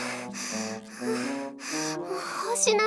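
Heavy panting in a visual novel: a voice breathes hard in quick, rhythmic, voiced gasps and exhalations, close and fairly loud, filling the whole stretch with no other talk.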